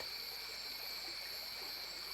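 A gentle river current flows in a soft, steady wash of water, faint and continuous with no other sounds.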